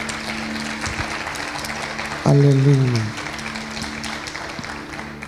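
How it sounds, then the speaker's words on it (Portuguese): A church congregation applauds for Christ, a steady wash of clapping under a pastor's sung exclamation that rises briefly over the crowd. "Dê um aplauso a Cristo"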